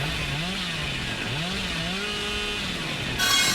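A chainsaw in the Dead by Daylight video game drones continuously with a wavering, revving engine pitch, heard alone without talk and ending in a brief louder burst.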